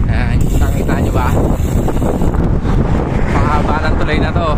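Strong wind roars continuously against the microphone while crossing a long bridge toward Solano in Ifugao, a loud, steady buffeting rush that fills the whole stretch with faint voices underneath.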